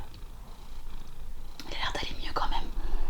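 A cat purring up close, a soft continuous low rumble that grows slightly louder, while someone speaks quietly over it.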